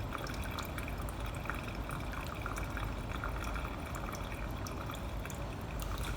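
Running water rinses investment plaster off an acrylic partial denture model, a steady close wash and trickle that continues unbroken throughout.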